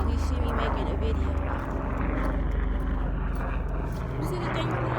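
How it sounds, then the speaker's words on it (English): A jet aircraft passes overhead, giving a steady, broad roar that holds for the whole stretch, with a person talking beneath it. "I think that's a jet or something."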